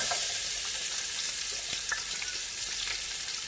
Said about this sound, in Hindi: घी गरम हो गया है, अब हम इसमें सारे साबुत मसाले ऐड करेंगे, थोड़ा सा इसे भूनेंगे।